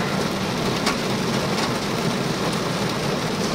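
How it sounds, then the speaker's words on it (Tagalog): Heavy rain pouring down outdoors, a dense, loud, unbroken hiss of drops drumming on surfaces for a few seconds with no voices. "Lalong lumakas yung ulan."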